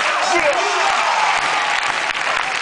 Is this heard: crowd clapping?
yes